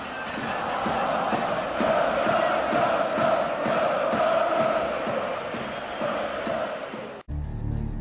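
Red Star Belgrade football supporters fill a stadium with a dense, steady roar of chanting and shouting voices at night, loud and continuous, cutting off abruptly near the end.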